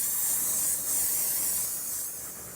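Continuous close airbrush hiss spraying tequila yellow paint for flame artwork, a steady airy rush that dips slightly near the end.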